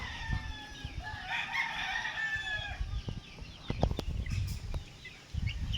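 Breeding hens cluck and a rooster crows in a farm range, with layered calls from several birds at moderate distance.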